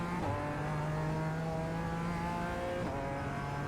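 A BMW M4 Evo GT4 in iRacing at Zandvoort climbs in revs under gradually increasing throttle, a rising engine note with a brief shift-like break, moderately quiet and with no talk over it.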